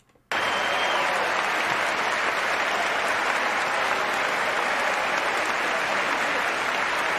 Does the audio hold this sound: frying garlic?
no